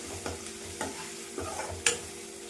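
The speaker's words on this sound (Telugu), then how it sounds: "ఇప్పుడు ముందుగా ఉడకబెట్టుకున్న బోటి పీసెస్ని వేసుకున్నాము. బోటిని వేయించేటప్పుడు కొంచెం జాగ్రత్త అండి" Boiled goat tripe pieces fry in a pan, a faint steady sizzle broken by a few soft scraping stirs and one sharper clink near the end.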